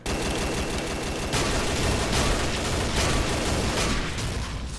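Dense, loud gunfire from the shooter game Combat Arms rattles almost continuously in rapid automatic bursts, with heavy booming impacts mixed in.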